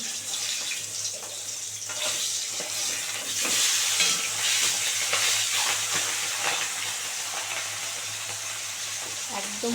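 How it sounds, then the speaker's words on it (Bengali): Pangas fish pieces frying in hot oil, giving a steady, close sizzle with stirring and scraping sounds that swell midway and continue throughout. "করে কড়া করে ভেজে নিচ্ছি"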